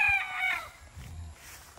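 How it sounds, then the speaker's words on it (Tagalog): A bulik rooster of 5K sweater cross, about 5.5 months old, gives a short crow on a farm, loud at first and then fading into quieter low farmyard sounds. "So ito yung 5K sweater bulik."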